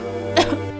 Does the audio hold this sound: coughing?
yes